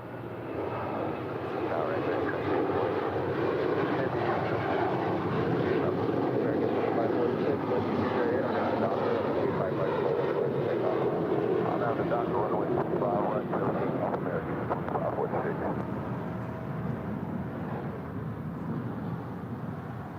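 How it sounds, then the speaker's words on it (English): An Alaska Airlines Boeing 737-900ER departs LAX with a steady, loud jet engine roar that holds for about twenty seconds. Radio and tower voices talk over it. "Next departure, Alaska Airlines Flight 440, heading to Cancun, Mexico. It's the 737-900ER."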